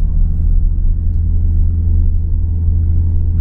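A car accelerating during a driving lesson, heard from inside as a loud, steady low engine rumble that holds without pause.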